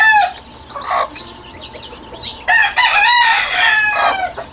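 A backyard flock of hens and their many young chicks: high, shrill chick peeping with bursts of clucking, loud and close, swelling in short overlapping waves.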